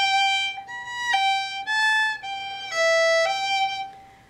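Fiddle playing the second half of the third phrase of the tune Sally Gardens, a slow legato line of clear sustained notes, close and alone, fading at the end.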